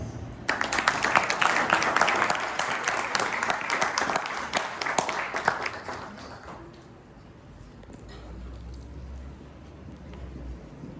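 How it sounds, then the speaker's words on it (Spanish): An audience at a soil science lecture applauds to welcome a speaker, a lively burst of many hands clapping that swells for several seconds, then fades into quiet room noise and a low hum. "Recibamos con un fuerte aplauso a la doctora Dulce Flores."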